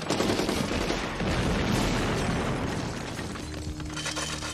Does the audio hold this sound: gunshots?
yes